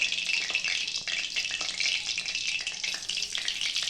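Loud, steady sizzling of red chilli powder frying in hot oil in a kadai for a fish curry, a dense crackling hiss with occasional stirring scrapes, close up and continuous.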